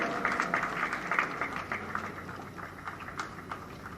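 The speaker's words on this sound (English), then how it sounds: "Please, ladies and gentlemen, give a big round of applause." Applause from the audience at a closing ceremony held at BIEC, Bengaluru, a moderate crackle of clapping that peaks early and then slowly thins out, with no voices over it.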